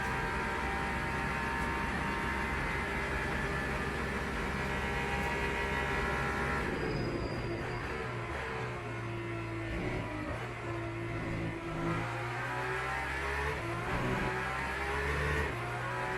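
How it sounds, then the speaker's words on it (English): A Ferrari race car in the Le Mans Ultimate racing game at the Le Mans circuit, its engine droning steadily, then shifting pitch and sweeping past with rising and falling revs under the player's own car noise. "Here comes the Ferrari."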